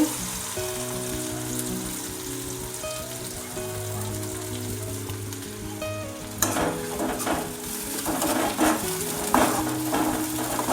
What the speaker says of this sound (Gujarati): ડુંગળી નાખી દઈએ વઘારમાં ડુંગળી નાખી દીધી છે